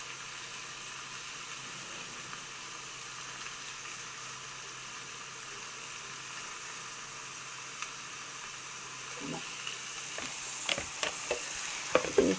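Brinjal, tomato, green chilli and onion fry in a pan while being stirred, a steady close sizzle throughout with a few scraping clicks of the spoon near the end.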